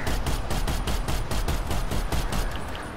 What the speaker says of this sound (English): laying down gunfire